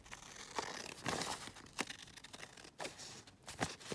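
Scissors trim around printed collage paper sheets, producing a close run of crisp snips and papery crinkles at an uneven pace, with no talking.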